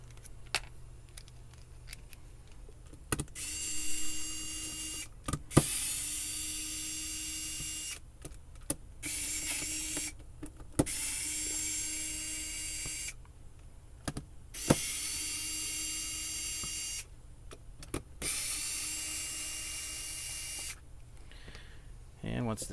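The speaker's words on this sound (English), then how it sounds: "Use an electric screwdriver for this." An electric screwdriver backs screws out of a Young Living Aria essential oil diffuser, giving repeated whirring bursts of several seconds each, separated by short pauses and clicks, fairly close and clear.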